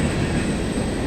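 A long freight train rolling past at Paris Junction in Paris, Ontario, a steady close rumble of rail cars with a faint high wheel squeal throughout.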